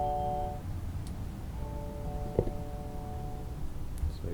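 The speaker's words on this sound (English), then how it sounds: "So you probably heard the chime on my phone." Video doorbell chime sounding from a phone speaker after a doorbell install, two short tonal ding notes separated by a pause, with a soft click between them.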